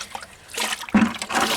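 Clean water sloshes and trickles into a bucket for sponging brick steps, a short, fairly quiet burst of splashing and pouring up close.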